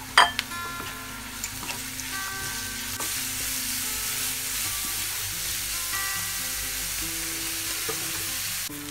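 Grated carrot sautés in a hot pan for sweet ghee rice, giving a loud, steady, close sizzle with occasional stirring clinks that runs unbroken throughout.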